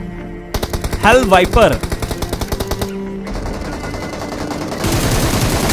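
Rapid automatic gunfire in the BGMI / PUBG battle royale game, loud close bursts of evenly spaced shots, with someone talking over part of it and further muffled gunfire and ambient game noise following.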